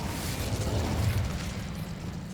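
The Incendio fire spell in Hogwarts Legacy bursts out as a dense, rumbling whoosh of flame, a continuous low roar lasting a couple of seconds.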